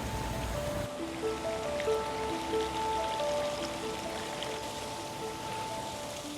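Water runs steadily down a small backyard waterfall into a widened stream and pond, giving an even, continuous rushing splash with faint tonal hum in the background.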